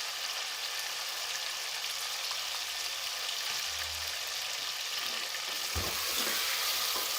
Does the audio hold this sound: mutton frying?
yes